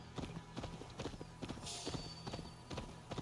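Horse hooves clip-clop in a steady galloping rhythm while riding in the Assassin's Creed video game, close and clear, with faint game ambience in the background.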